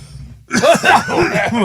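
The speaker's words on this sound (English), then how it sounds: "I'm going to cough because I choked on this" A burst of harsh coughing after a brief quiet start, several rough, breathy coughs in quick succession, close and fairly loud.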